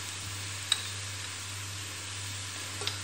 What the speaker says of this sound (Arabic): وغادي نشحر هاد الخضر